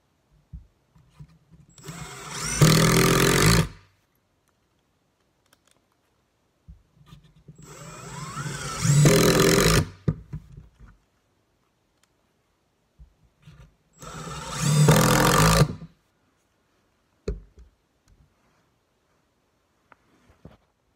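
A Milwaukee brushed cordless drill runs in three separate bursts of roughly two seconds each, a loud whirring spin-up and wind-down with quiet pauses between.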